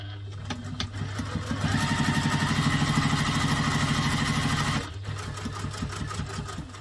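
Sewing machine stitching a sling bag at a small stitch length: a steady, close mechanical whir with rapid even needle rhythm running for about three seconds, with motor hum before and after.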